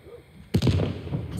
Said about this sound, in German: Waren zwei Explosionen.